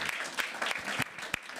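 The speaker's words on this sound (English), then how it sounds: "Let's give a round of applause." Audience applause at a Ukraine House event in Davos, brief and fairly quiet, with scattered claps.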